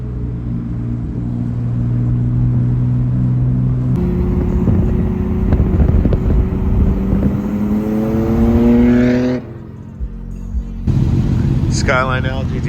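Nissan Skyline with a titanium Tomei exhaust and manual gearbox, engine droning steadily while cruising, then revving up through a gear with rising pitch before a sudden drop and resumed rumble, loud and close throughout.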